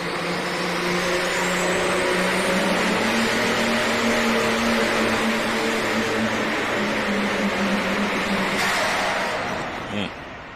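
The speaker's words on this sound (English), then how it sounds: "Sounded like it was over revving the whole time, didn't it?" A semi truck engine over-revving during an indoor truck pull at Freedom Hall in Louisville, Kentucky roars loud and sustained with a high, strained pitch, fading slightly near the end, under an announcer's commentary.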